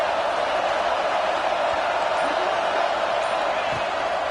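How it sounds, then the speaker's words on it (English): A big stadium crowd roars at a Penn State home football game in Happy Valley against Ohio State on a third down. It is a continuous, even wash of distant massed noise that holds steady throughout. "Here comes the noise from this big crowd in Happy Valley on third down."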